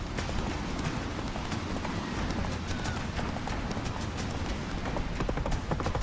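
Roach, the horse in The Witcher 3, gallops steadily with dense rapid hoofbeats and rumbling motion, loud and continuous throughout.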